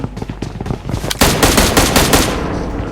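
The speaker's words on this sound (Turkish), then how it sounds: "Bana sıkıyorlar" Rapid automatic gunfire in a shooter video game, starting as scattered shots and then swelling into loud, sustained bursts of close-range fire that run continuously to the end.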